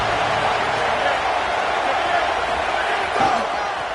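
Stadium crowd roaring steadily in an NCAA college football video game, a broad continuous wash of cheering that stays loud throughout with a slight swell near the end.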